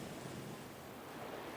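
A swift river current after a lahar flood makes a continuous broadband rush of churning water, steady and fairly loud, with wind buffeting the microphone and no voices.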